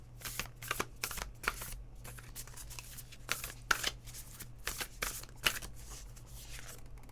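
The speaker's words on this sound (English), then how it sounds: "okay, I'm reshuffling these." A deck of tarot cards is reshuffled by hand, giving a run of quick, crisp riffling and flicking bursts in an irregular rhythm, close and fairly quiet over a low steady hum.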